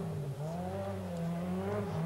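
A rally car in the 1985 Lombard RAC Rally runs fast downhill into a slow right-hander on a stage at Dovey, its engine note droning and rising and falling steadily at moderate distance without any talk.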